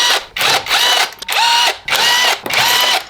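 A power tool whirs in repeated bursts while removing the wheel of a 2020 Range Rover Evoque, loud and close, with three long spins separated by short pauses.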